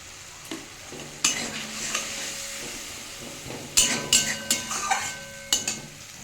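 Spices and cumin are stir-fried in a pan for a fish broth with potato and pointed gourd. A soft sizzle sits under sharp, uneven spatula scrapes and clanks that come in bursts near the end.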